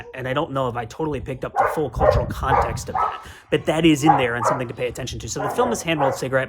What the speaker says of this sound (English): I apologize for the dogs going fucking bananas right now